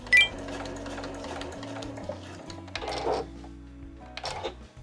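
A sewing machine stitches a fabric key case with a backstitch, giving bursts of rapid mechanical whirring that stop and restart, close and moderately loud.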